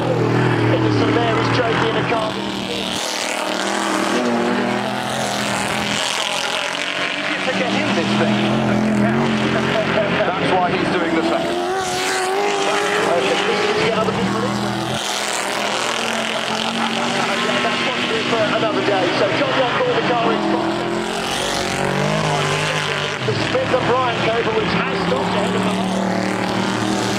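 Classic racing cars, including a Jaguar E-Type and a Cobra, slide through a corner at the Goodwood circuit, their engines roaring loud and continuous as cars pass one after another, with a commentator talking over much of it.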